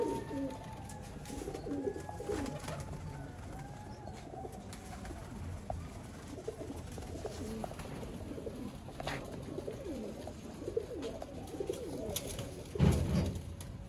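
Red-eyed pigeons coo steadily outdoors, soft repeated coos layered over a dense background of rustling and faint chirps, with a louder burst near the end and no talking.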